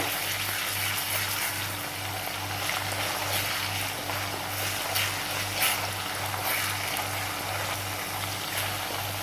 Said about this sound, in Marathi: आलं लसूणची पेस्ट व्यवस्थित परतून घ्यायची, त्याचा कच्चा सगळा वास जाईपर्यंत